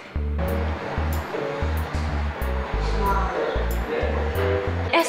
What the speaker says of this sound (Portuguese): Essa máquina que escolhemos está lavando com água quente.